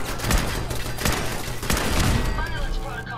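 Rapid bursts of gunfire at a machine gun turret in Fallout 4, loud dense shots with booming impacts, continuous over about three seconds.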